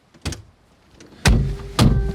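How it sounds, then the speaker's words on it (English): Close, solid thuds of a car door shutting, with a lighter knock first and then two heavy, deep slams in quick succession, from a Tuthill 911K or Alfaholics GTA-R 290. "Nice door close, isn't it?"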